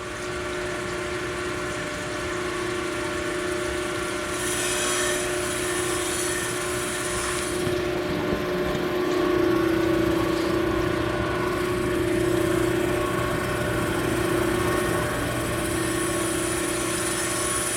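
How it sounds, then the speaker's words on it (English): A crankshaft grinding machine regrinding a standard-size crank with a scratched journal, a steady close mechanical drone with a constant tonal hum and a rising high whine partway through, no speech. "Bring it back in for another grind."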